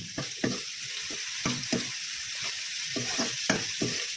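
Khepcha ingredients stirred and fried in a pan, a steady sizzle broken by repeated scraping strokes of the spoon at an uneven rhythm, close and fairly loud with no talking.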